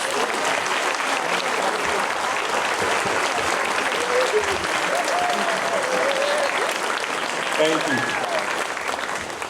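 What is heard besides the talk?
audience applause for board members at supper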